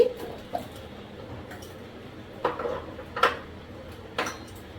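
A lid lifted off a pot of simmered fish curry gives a few scattered metallic clinks and knocks over a quiet kitchen background, with no talking.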